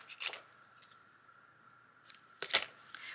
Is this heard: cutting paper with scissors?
yes